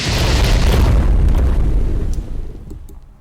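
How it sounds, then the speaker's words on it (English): Missile explosions from a Mecha Godzilla mod in the Ark Survival Evolved video game, a loud deep booming blast that rumbles on and slowly fades, with faint crackles at the end. "Okay, so let's try those missiles again."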